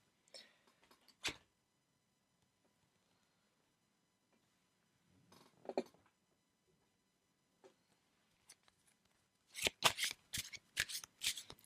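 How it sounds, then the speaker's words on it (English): Golden Tarot cards being shuffled by hand: a few isolated soft taps and flicks early on, then a close, crisp run of rapid riffling bursts near the end, with no talking. "let's close it off for you with some cards from the Golden Tarot. I already have one card, but let's shuffle some more."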